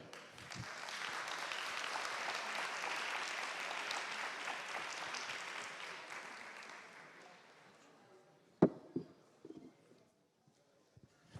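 Applause from an audience at a business talk, welcoming a guest named Brice onto the stage: a dense, steady clatter of many hands for about eight seconds that thins out, followed by a few scattered claps and a brief knock.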